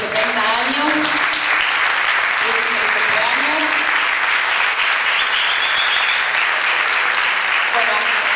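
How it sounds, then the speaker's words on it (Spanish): Loud, sustained audience applause marks a man's 70th birthday at a live music event, dense clapping throughout with voices calling out over it. "vamos a brindarle un aplauso que hoy está cumpliendo los 70 años"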